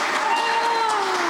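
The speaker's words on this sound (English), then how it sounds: "let's give them a huge round of applause" Audience applause greeting two candidates at a county supervisor candidate forum for a District 5 seat: a steady wash of clapping across the room, with a sustained tonal hum running underneath.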